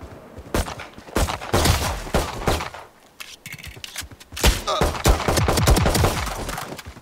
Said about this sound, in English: Shoot that flying target for me.